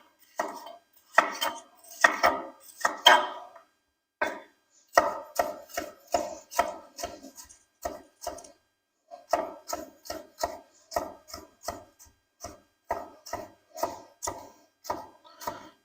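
A very sharp kitchen knife chops food on a board while egg muffins for breakfast are prepared, crisp close knocks in quick bursts and steady rhythmic runs, with brief pauses between.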